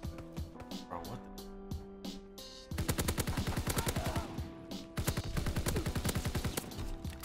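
Rapid assault rifle fire in Call of Duty WW2, loud close bursts of evenly spaced shots in the second half after quieter scattered battle noise, with a player talking throughout.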